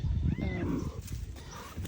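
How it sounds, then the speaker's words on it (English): A cat meows once near the start, a short rising call over steady outdoor background noise after a night of storm damage. "There's another cat."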